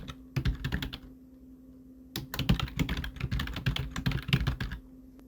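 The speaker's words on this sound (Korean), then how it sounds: "그런 다음에 한글 입력하겠습니다" Fingers type Korean text on a computer keyboard in two runs of quick, close key clicks separated by a short pause, with a low steady hum underneath and no voices.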